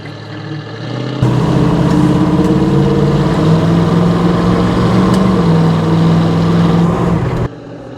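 The engine of a 1973 Plymouth Cuda on a test drive gives a loud, steady, close-up drone with a smooth mid-range hum that holds for several seconds before dropping back at the end.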